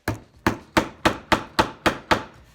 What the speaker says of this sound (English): I'll just take my hammer